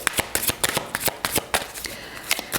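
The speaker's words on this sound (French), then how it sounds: "on va prendre une carte conseil avec l'oracle des anges" A deck of oracle cards being shuffled by hand, a quick run of crisp riffling flicks in an irregular rhythm, close and clear with no voice over it.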